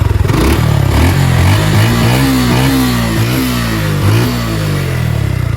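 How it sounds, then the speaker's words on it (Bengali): A freshly washed motorcycle engine revs loud and close, rising and falling in several throttle blips over a steady rough idle. "অনেকদিন পর বাইকটা ওয়াশ করাইলাম, সাউন্ডটা একটু মিষ্টি হয়েছে"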